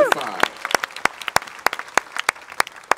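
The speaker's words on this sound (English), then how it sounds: "Thank you very much for that wonderful round of applause" An audience at a 2014 jazz concert in Vienne, France gives a thinning round of applause, scattered sharp hand claps sounding irregularly and fairly close, with voices faintly present.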